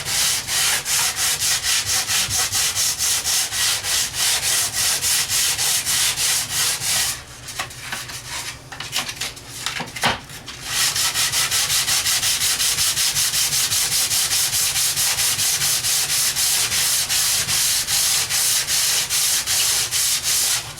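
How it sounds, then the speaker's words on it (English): Hand sanding a wooden cabinet door for a DIY travel trailer with sandpaper wrapped on a block, fast rhythmic close rubbing strokes that pause briefly midway and then resume steadily. "lay it on here and sand that bad boy nice and smooth"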